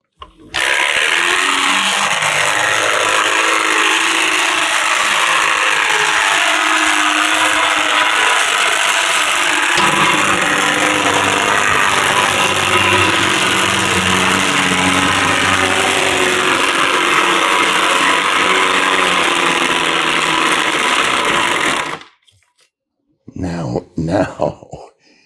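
An 1890 flywheel-driven table saw cuts through wood with a loud, sustained whir and grinding rasp, its tone dropping partway through the cut, then stopping abruptly before voices are heard.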